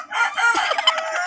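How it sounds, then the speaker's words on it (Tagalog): A pet rooster gives one loud, close crow that lasts just over a second, heard on its own with no talking. "Tumitilaok na."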